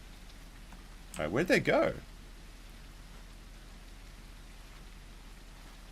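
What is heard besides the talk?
rain falling in The Isle video game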